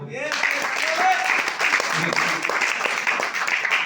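Audience applause at a DXN business gathering in Abu Dhabi, a dense, steady patter of many hands clapping at close range for the full stretch, with voices mixed into the crowd noise.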